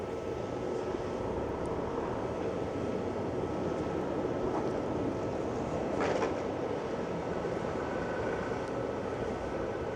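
A coach engine rumbles steadily as the vehicle manoeuvres slowly toward a wall in a driving test at the UK Coach Rally in Blackpool, a continuous low drone with outdoor background noise and no talk.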